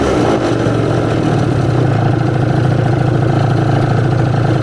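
A scooter engine that has just had its carburettor mixture screw adjusted, running close and loud as a steady rough idle with a slight rev at the start.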